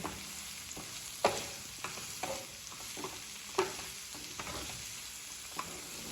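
Ginger garlic paste sizzles gently in a pan, a quiet steady frying hiss broken by several sharp spatula stirring knocks and scrapes, close by with no talking.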